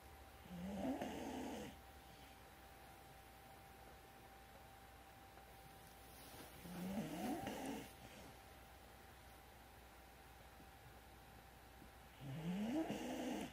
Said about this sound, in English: That's the little guy you hear snoring